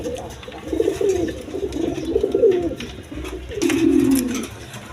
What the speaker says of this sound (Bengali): একদম কোয়ালিটি সম্পন্ন কবুতর, এ গ্রেডের কবুতর